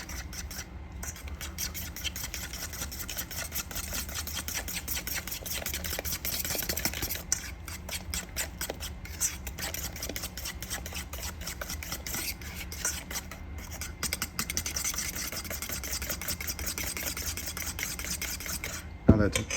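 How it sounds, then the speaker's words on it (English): Egg and sugar batter is mixed in a bowl with a rapid, steady rhythmic scraping and whisking that runs throughout, close and moderately loud, ending in a brief clatter. "Now we want to mix this up until well combined."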